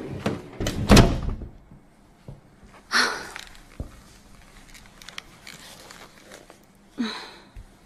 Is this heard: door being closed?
yes